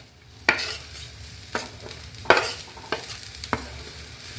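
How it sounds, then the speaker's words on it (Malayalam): Jaggery and grated coconut are stirred in a hot pan. A spoon scrapes in scattered sharp strokes over a faint, low sizzle, with no speech. "ഈ ചൂടിലേക്ക് ഈ ശർക്കര ഇട്ട് കൊടുക്കുക അതോടൊപ്പം തന്നെ നാളികേരം"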